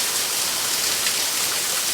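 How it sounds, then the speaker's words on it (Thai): Steady rain falling outside a camper truck, a dense, even hiss of drops close by with no voices. "ภาพตัดกลับมาที่ด้านนอกนะครับมันฝนตกครับ"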